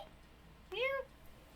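A small kitten gives one short, clear, rising-then-falling meow indoors, fairly faint against a quiet room.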